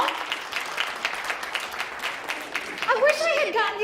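Audience at a comedy show breaking into steady applause, dense clapping throughout the clip, with a voice speaking over the final second.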